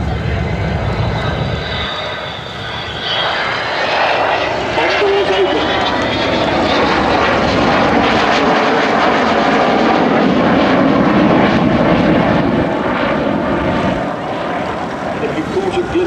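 Avro Vulcan bomber jet engines from a 1970s-era squadron scheme howl loudly and continuously at a public air display, a rising whine sweeping over a broad steady roar with crowd voices faintly underneath.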